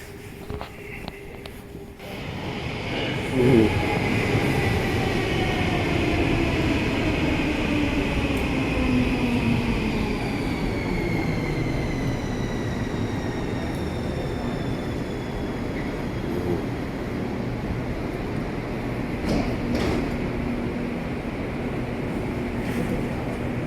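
A metro train in Espoo, Finland rumbles and squeals nearby, rising whines and screeching brakes over a steady rolling roar for the whole stretch, with no one talking.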